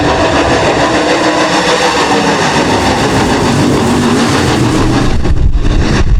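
Late Model race cars roar loudly and steadily as a race starts on an oval track, engines blending into a dense, continuous rumble.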